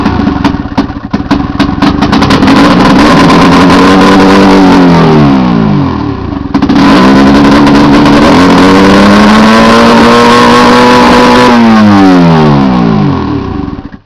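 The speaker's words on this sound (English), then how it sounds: "And that's the modified exhaust." A Ski-Doo MXZ snowmobile with a straight pipe exhaust revs loud and close, its engine climbing in two long sweeping pulls and dropping back between them, harsh and raspy with no voices.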